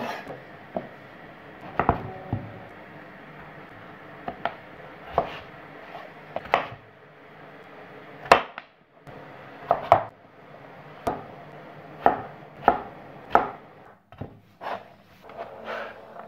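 A knife chops butternut squash on a wooden board in irregular sharp knocks, some single and some in quick pairs, close and clear over a quiet kitchen background with no talk.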